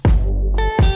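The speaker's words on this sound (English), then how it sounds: "I've got a kick, snare, bass, and guitar section" Short burst of a produced beat section with kick, snare, bass and guitar: a heavy low thump opens and closes the one-second snippet, with a sustained bass tone and bright harmonic guitar notes between, loud and alone.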